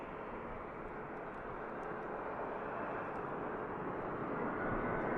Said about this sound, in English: Just have this EasyJet touching down